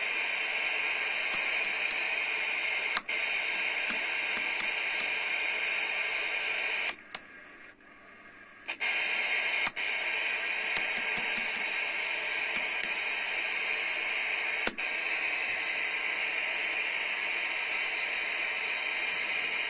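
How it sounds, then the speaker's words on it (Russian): AM broadcast reception on an R-155U receiver fills with interference, a steady hiss and whine punctuated by sharp clicks, briefly dropping to near quiet in the middle before the noise returns; nobody speaks. "Чувствуется помех уже много."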